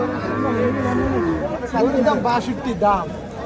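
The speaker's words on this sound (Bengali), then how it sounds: "আমরা দেখি আরো একটা গরু দেখাই" A Sahiwal bull lows amid a busy cattle market in Chandina, Comilla, Bangladesh, with people chattering and talking nearby throughout.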